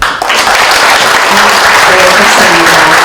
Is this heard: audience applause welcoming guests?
yes